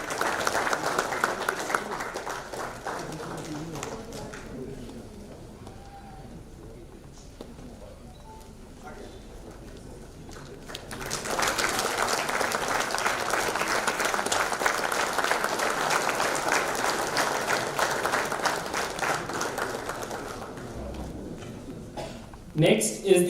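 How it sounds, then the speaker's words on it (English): An audience at a coal-sector research hackathon in Ranchi breaks into sustained applause for the winners, the clapping swelling midway and continuing steadily, with faint talk before it. "Ladies and gentlemen, a huge round of applause for the winners."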